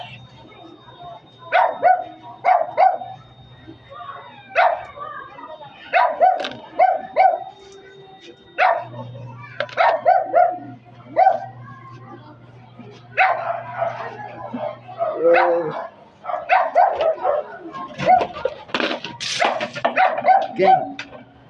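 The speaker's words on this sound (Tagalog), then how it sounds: "Huwag niyo pansinin yung aso." A house dog yelps and barks in repeated short bursts, sometimes whimpering, close and fairly loud, over a steady low hum.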